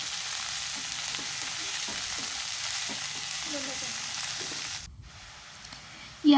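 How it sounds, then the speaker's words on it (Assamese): Shredded cabbage sizzles in a hot pan while being stirred for a cabbage paratha filling, a steady loud frying hiss with stirring scrapes that drops away abruptly near the end. "এতিয়া মই ইয়াতে বন্ধাকবিখিনি দি দিম আৰু অলপ লৰাই দিছোঁ।"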